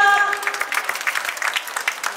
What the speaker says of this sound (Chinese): 俾掌声佢先啦。